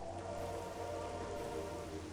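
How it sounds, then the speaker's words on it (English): Rain falling in Metroid Prime Remastered, a faint, steady patter and hiss of drops with a low constant hum beneath, unbroken throughout. "And also just the rain."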